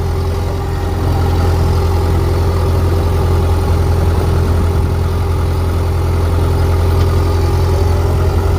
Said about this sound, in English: We're driving a dozer.